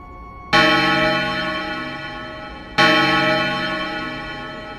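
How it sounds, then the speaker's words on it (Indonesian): An old wall clock hanging in a living room chimes loudly, two bright ringing strikes about two seconds apart, each leaving a long shimmering decay that fades slowly into a quiet room. "Suara lonceng jam dinding tua yang bergantung di dinding ruang tamu berbunyi nyaring"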